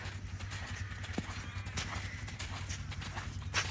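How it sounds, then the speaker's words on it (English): A horse canters during a dressage lesson, its hoofbeats a soft rhythmic thudding over a steady low rumble, fairly close, with no speech over it. "One more big canter."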